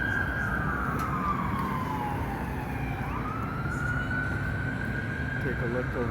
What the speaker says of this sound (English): Ambulance, hopefully everybody's okay.